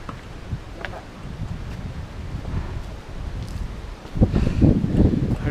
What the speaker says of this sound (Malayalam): തണുത്ത കാറ്റും.